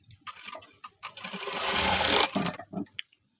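A sewing machine stitches blouse piping in short bursts, then one longer run of rapid whirring needle strokes, close by, before slowing into a few brief stitches and stopping.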